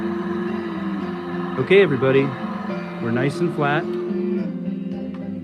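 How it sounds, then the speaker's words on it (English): A steady mechanical blowing hum with a low whine from a Genesis heat gun runs throughout while a person talks over it briefly. "Sorry for the noise with the Genesis heat gun"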